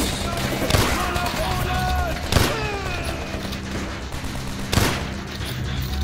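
Call of Duty: World at War combat with gunfire and an RPG rocket, three heavy booming blasts spread across the clip over a constant rumble, with the sharper sounds of weapon fire between them.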